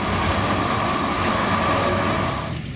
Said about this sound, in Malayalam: അധികം താമസിയാതെ ട്രെയിൻ റോമ ടെർമിനി സ്റ്റേഷനിലെത്തി.